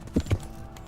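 Horse hooves in Kingdom Come: Deliverance striking the ground in two quick, close clip-clop beats, followed by softer shuffling.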